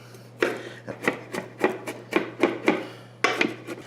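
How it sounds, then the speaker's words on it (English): A knife slices through an onion while grilled shrimp is being prepared, giving eight or so short, crisp cutting strokes in an uneven rhythm over a steady low hum. "I'm going to do 1 slice of onion"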